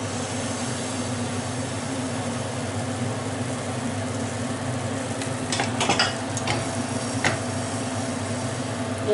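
Crepe batter sizzles steadily in a pan, a constant dense hiss throughout with a few faint clinks midway, no talking.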